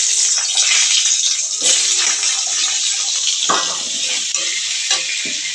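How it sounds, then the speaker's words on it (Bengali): Cut potato pieces drop into hot oil and fry with a loud, dense, continuous sizzle close by, broken by a few scraping stirs and no voices. "আলুগুলো এবার তেলের মধ্যে দিয়ে দেব।"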